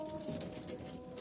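Pigeons coo softly in a loft of pure Jalali pigeons, low murmuring calls heard faintly under steady background hiss and rustle.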